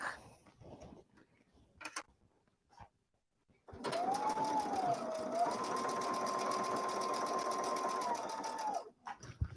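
A sewing machine sews a backstitch on quilt fabric. After a few seconds of quiet handling it starts and runs continuously for about five seconds with a steady whirring hum and a faint tonal whine, then stops.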